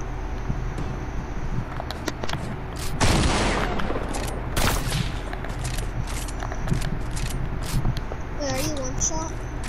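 Sniper and shotgun fire rattles in a video game, with a dense burst of shots and booms over steady background noise while children talk and shout throughout.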